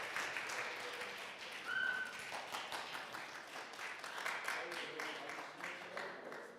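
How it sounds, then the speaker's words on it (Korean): Faint, steady applause from a seminar audience at the 20th World Korean Business Convention, a soft continuous patter of many hands clapping at a distance. "큰 박수 부탁드리겠습니다"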